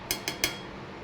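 A lid is set down over a cooking pot of fried rice: three quick metallic clinks in a row, close and fairly loud, with no talk.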